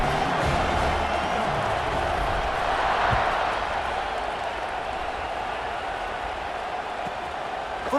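A football stadium crowd roars after an early kick return, a dense, sustained wall of cheering that stays loud and even throughout without distinct voices standing out.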